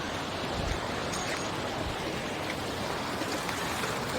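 A steady, dense rush of a small river flowing toward the Narmada, constant and close, with no pauses and no voices.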